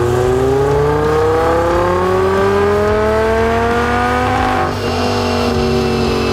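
A Lamborghini Huracan's engine, upgraded with a Whipple supercharger, revs loud and close with a steadily rising whine, a brief dip near the end, then carries on strongly.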